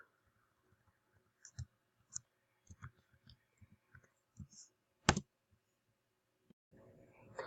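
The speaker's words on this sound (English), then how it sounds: "Oops, except I can't type." Calculator keys tapped while entering numbers, a scattered run of soft clicks and taps with pauses between them, one sharper press near the end, quiet and close.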